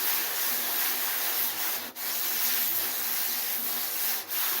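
Close, steady rubbing of 200-grit sandpaper over the hide of a Tlingit hoop drum, a continuous dry scratchy hiss with brief pauses as the strokes change direction.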